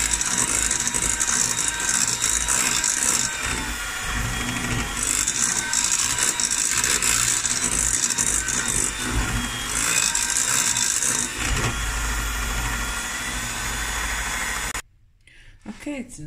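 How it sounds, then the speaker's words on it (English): A normal large egg whisked steadily for about fifteen seconds, a continuous busy rattling and clicking, fairly loud and close, ending abruptly before a short quiet tail. "mix this egg."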